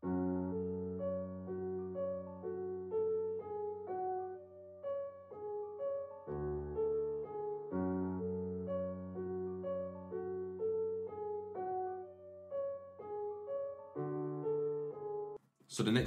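A dark piano melody in FL Studio processed with EQ and a half-time effect, heavy sustained low notes under a slow repeating upper line, steady and alone, ending in a brief burst.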